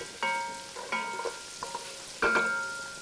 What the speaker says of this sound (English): So we're gonna add the flour. And we're just gonna toast it lightly.